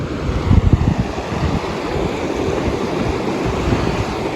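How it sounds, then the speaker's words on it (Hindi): Glacier meltwater rushes along a Himalayan stream near Parvati Kund on the Adi Kailash route, a steady loud broadband roar with some wind buffeting the microphone early on and no voices. "यहाँ पे आ रहा है पानी ग्लेशियर से बहता हुआ"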